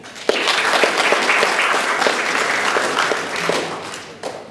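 An audience at a school language competition applauds to welcome the school's owner, a sustained burst of dense clapping that starts sharply, holds steady and thins out near the end.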